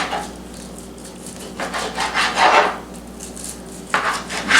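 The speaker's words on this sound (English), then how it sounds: "We're going to cut it into 1-inch chunks." A knife slices browned chicken into one-inch chunks on a board, giving soft scraping, rubbing strokes in irregular bursts with a sharper knock near the end, close and fairly quiet.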